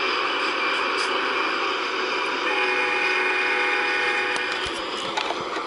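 A CSX freight train hauled by six engines, mostly boxcars, rolls past in a steady, loud, continuous rumble with metallic wheel squeal and a few clanks near the end; no voices.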